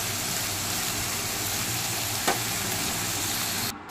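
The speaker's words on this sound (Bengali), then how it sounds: "তারপর সব কিছু একবার ভালো করে নেড়ে চেড়ে মিশিয়ে নেব" Spices with a little sugar and masala being stirred in a sizzling frying pan for an egg paneer roll, a steady close hiss of frying with faint scraping, no talking.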